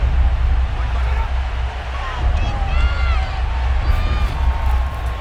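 A stadium crowd at a 1995 Colts versus 1977 Cowboys football game makes a steady roar of murmur and cheering that lasts the whole stretch, under a commentator's voice.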